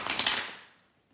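Tarot cards are shuffled in a short burst of quick, papery riffling clicks close by, fading out within about a second and leaving near silence.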